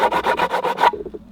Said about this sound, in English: Just sanding that down just to break the edge off a little bit.